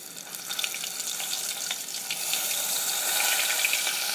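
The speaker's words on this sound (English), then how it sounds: "now you just want to deep fry this tarantula just for about a minute or two" A tarantula deep frying in hot oil, making a close, continuous bubbling crackle that grows slightly louder and denser toward the end.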